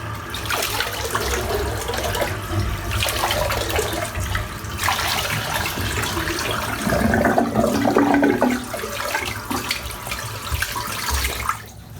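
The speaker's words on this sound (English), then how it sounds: "Let's rinse that off." Water running steadily from a tap while rinsing off after a head shave, a loud, continuous splashing rush close by that shifts in tone as hands move through the stream, then cuts off near the end.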